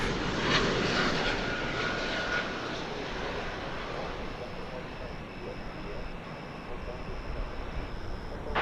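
An arriving airliner on a flight from Chicago into DFW airport makes a broad, sustained jet roar that is loudest at the start and slowly eases over several seconds.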